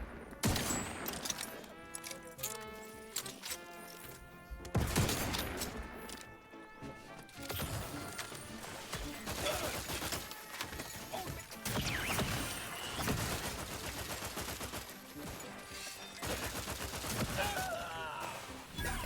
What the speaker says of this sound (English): Who's shooting from up there?